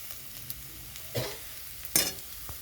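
Quiet, steady sizzle of taro frying in oil, with a couple of brief sharper crackles and spatters.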